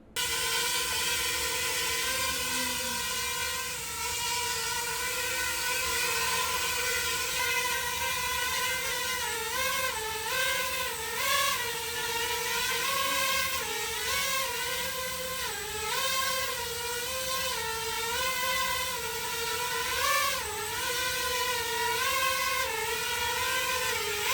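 A homemade drone controlled by hand gestures flies nearby, a steady whirring propeller whine that bends up and down in pitch as it maneuvers, continuous and moderately quiet.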